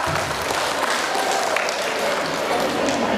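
Applause from the audience at a seminar on protecting women against cancer, a dense, continuous patter of many hands clapping at a fairly loud, even level, with faint voices mixed in underneath.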